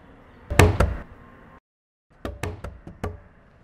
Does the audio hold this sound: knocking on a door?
yes